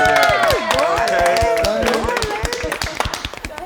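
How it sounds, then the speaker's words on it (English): A studio audience at a reunion show of a dating series claps in a dense round of applause with some cheering, loud at first and thinning into scattered claps near the end, with voices mixed in. "I want to give a round of applause for her"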